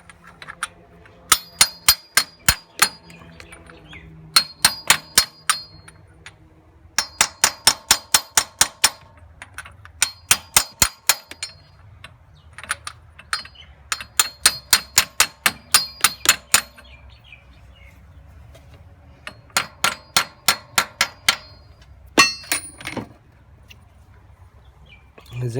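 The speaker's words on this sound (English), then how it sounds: "you can use one of these sockets like this, and to try to hammer it in." Sharp metallic hammer blows drive a Welsh plug into a 2006 Ford Fairmont engine through a socket, coming in quick clustered runs of ringing strikes separated by short pauses, close and loud.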